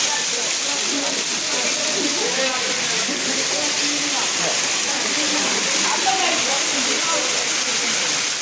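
A waterfall at the Chakra Tirtha picnic spot in Keonjhar gives a steady, even rushing roar that fills the whole clip, with indistinct voices faintly beneath it.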